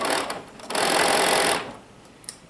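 A sewing machine runs a collar seam on a tee, a loud close mechanical whir that starts in short bursts, holds steady for about a second, then stops.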